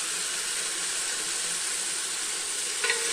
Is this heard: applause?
no